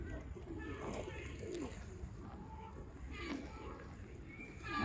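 A pigeon coos softly at a distance in a lakeside park in Wolverhampton, UK, faint repeated calls over low outdoor ambience and some background chatter.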